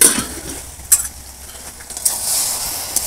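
Shrimp and ash gourd curry being stirred in a pan, a soft scraping and sizzling texture with a few sharper utensil scrapes, close and alone without talk.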